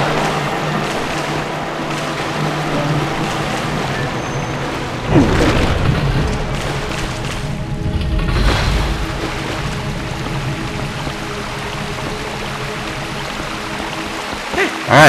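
Water pours and streams steadily past a water wheel in the Lakebed Temple of Zelda: Twilight Princess, a low rumbling churn, a continuous wash of flowing sound with a brief swell in the middle.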